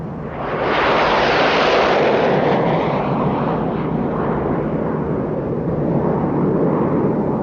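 An airplane flies steadily overhead, its broad engine roar rising quickly in the first second and then holding at a loud, even level for several seconds, with no talking.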